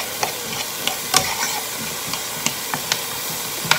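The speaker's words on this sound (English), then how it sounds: "I'm just gonna saute them down a little bit with that butter" Green beans sauté in butter in a pan, a close sizzle broken by sharp spoon clicks and scrapes at irregular intervals.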